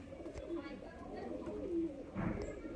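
Giribaz high-flyer pigeons coo in low, soft bursts close by, mixed with rustling and background noise, while someone talks over them.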